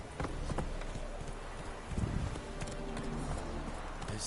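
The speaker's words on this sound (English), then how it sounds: "Get on the horse, Geralt." Horse hooves clip-clop in The Witcher 3 video game, a rhythmic run of hoof strikes mixed with game ambience. The level stays moderate, with a denser burst of steps near the middle.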